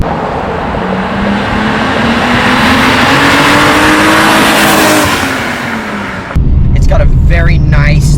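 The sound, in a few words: V6 car engine revving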